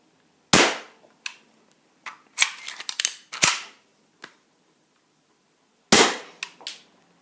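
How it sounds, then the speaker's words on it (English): Double Eagle M23 BB gun firing a string of shots: sharp, close pops arriving singly and in a quick cluster of several, each cracking out then falling away, with silent gaps between bursts. "So I've got the gun loaded right here, and we're going to do a bit of a firing test."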